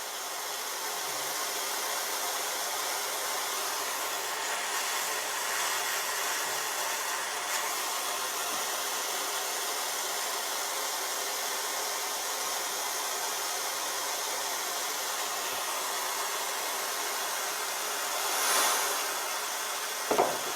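A heat tool is run over a polypropylene water tank to melt plastic onto a sealed crack. It makes a steady, fairly quiet blowing hiss throughout, with a couple of faint bumps near the end.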